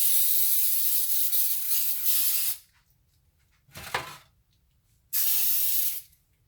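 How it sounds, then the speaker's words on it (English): Cooking spray from an aerosol can coating a baking pan for a chicken pasta bake, two bursts of close steady hiss about two seconds and one second long, with a short clatter between them. "we're gonna spray our pan here. Get a little spray here."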